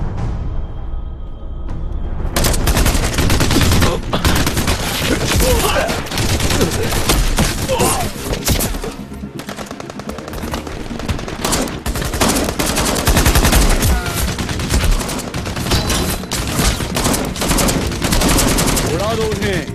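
Sustained bursts of automatic gunfire and rapid shots fill a battle scene in a dubbed Russian task force action movie, loud and dense from start to finish after a quieter opening, with shouted voices mixed in.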